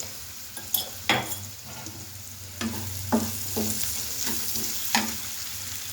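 A spiced mixture with coriander powder, cumin powder, garam masala and salt sizzles steadily in a pan while a spoon scrapes and stirs it in several distinct strokes, close and clear, with no talking.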